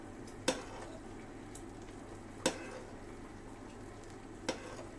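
Gulaman jelly powder for buko pandan boiling in a pot gives a steady, low bubbling hiss, broken by three sharp clicks spaced about two seconds apart, with no talking.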